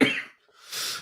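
A single close cough, loud and abrupt, followed by a brief pause and a second rougher burst of breath, from a man with a lingering cough.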